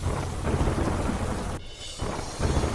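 Heavy rain pours steadily during a storm in Banaskantha, with thunder rumbling low underneath; the downpour briefly thins for a moment before returning at full, close, loud intensity.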